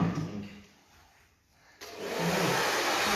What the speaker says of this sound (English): The hairdryer on cold, please.